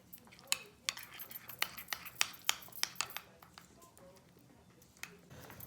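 Biryani masala being mixed into egg biryani, with quick, sharp metallic clinks and scrapes of a utensil against the pan in a busy run that thins out toward the end.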